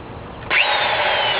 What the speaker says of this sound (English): this thing has been an awesome drill